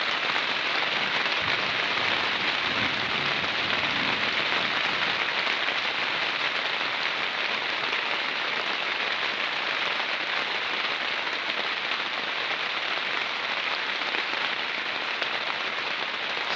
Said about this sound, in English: Certainly getting some rain, aren't we?